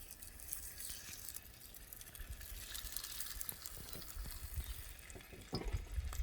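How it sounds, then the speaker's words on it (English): A fallow deer steak sizzles in a frying pan, giving a quiet, steady crackle and hiss with occasional faint clinks and scrapes near the end. "So when you're putting your steak in the pan, always remember, lay it away from yourself"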